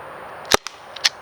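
A Byrna LE less-lethal CO2 launcher fires powder rounds: one sharp, loud crack with a quick echo, followed by a second, softer pop about half a second later.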